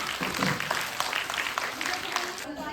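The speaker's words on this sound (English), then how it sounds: "Let's welcome them with your loud claps" An audience claps steadily to welcome a class 3 group onto the stage at a school Diwali celebration and prize ceremony, with dense, continuous applause and faint background voices throughout.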